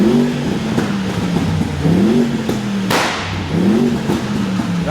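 Mercedes G63 V8 engine revving repeatedly, close and loud, each rising roar falling back between blips, with a sharp crackle partway through.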